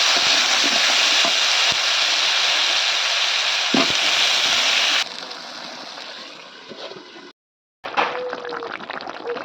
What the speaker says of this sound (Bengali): তরকারিটা রান্না হয়ে গেছে দেখতেই পাচ্ছেন টকবক টকবক করতেছে তরকারিটা